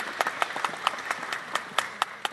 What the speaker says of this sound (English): And for that, I think they deserve a round of applause.